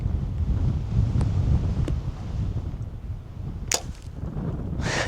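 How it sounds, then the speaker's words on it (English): Outdoor wind buffeting the microphone with a steady low rumble and gusts, a few sharp ticks and a brief clatter near the end during bow hunting practice, no talking. "It's so hard to hold it back with that wind."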